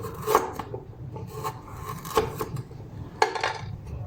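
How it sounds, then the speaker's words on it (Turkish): Fresh cucumbers are sliced into decorative shapes on a cutting surface for a mixed pickle, giving a few close, crisp rasping cuts with short pauses between them and no talk. "Salatalıkları da bu şekilde şekilli doğrayacağım."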